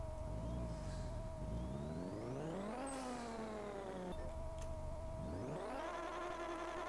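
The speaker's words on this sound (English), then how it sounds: "God, that is an ugly sounding smart car." A smart car engine in Pixel Car Racing drones loudly, revving up and down in rising and falling sweeps with a harsh, buzzy tone.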